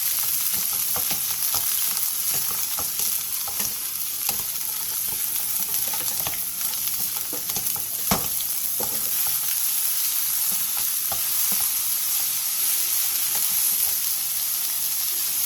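Sweet potato stems and a spoon of minced garlic are stir-fried in oil over high heat, a loud, close, steady sizzle with frequent clicks and scrapes of stirring throughout.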